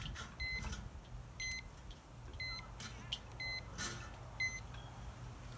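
An electronic alarm beeps in a regular rhythm, about one beep per second, fairly faint over a low rumbling background.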